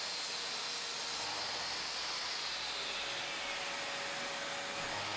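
A shop vac dust collection setup runs alongside a miter saw, giving a steady, even broadband hiss and whoosh of suction that stays constant throughout without talk.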